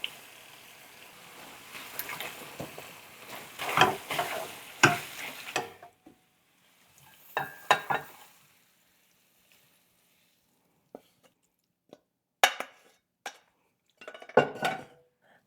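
Shrimp for pad thai stir-frying in a pan, with intermittent bursts of sizzling and utensil clatter against the pan separated by quiet gaps, close by and without talk.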